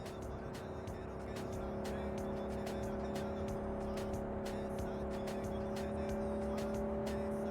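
A car in Cyberpunk 2077 drives off with a steady engine drone holding tonal hums, overlaid by rapid repeated clicking ticks, loud and continuous throughout.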